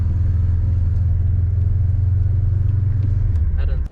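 Cabin of a turbocharged Volvo 850 car, its engine giving a steady low droning rumble throughout, loud and close, easing slightly near the end with a faint rattle.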